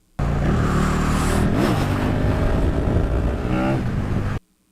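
Motorcycle engine revving hard during a wheelie, heard as a loud continuous roar with rising and falling pitch sweeps, playing back steadily for about four seconds before cutting off abruptly.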